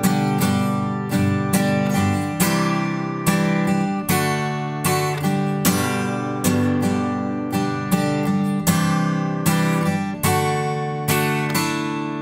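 Acoustic guitar strumming the first half of a song's chorus, steady rhythmic chord strums with ringing low strings, played close and alone for several bars.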